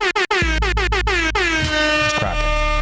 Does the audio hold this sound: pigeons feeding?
no